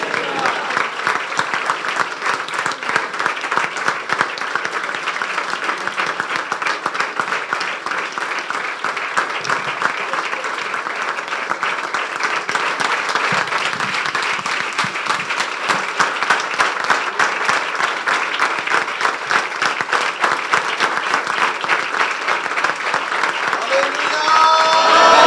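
Sustained applause from a church congregation at a Pentecost service welcomes Pastor Haroon Moin, a dense, steady clapping that fills the hall for about twenty-five seconds and swells slightly toward the end, with faint voices mixed in.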